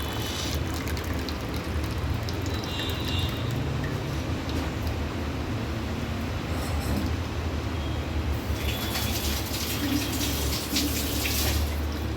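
Coconut milk squeezed out through a cloth while making a Tamil dal payasam, a steady watery streaming and dripping that runs unbroken and fairly loud throughout.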